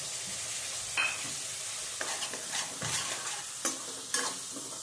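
Chopped tomatoes are stirred into hot oil for a Gujarati chickpea curry: a steady close sizzle runs throughout, broken by several sharp scraping spoon strokes against the pan.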